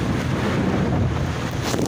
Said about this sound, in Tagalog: Malakas ang hangin at saka alon